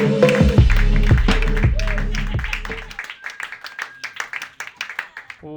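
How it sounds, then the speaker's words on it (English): At a roast battle comedy show, the audience claps in loud bursts while music plays at first. The music cuts out and the scattered hand claps carry on alone, thinning out toward the end. "start clapping right now for Devin Bramble."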